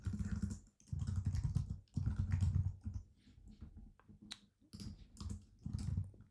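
Clattering keystrokes on a computer keyboard typing a short phrase, arriving in close, moderately loud bursts separated by brief pauses, with no voices.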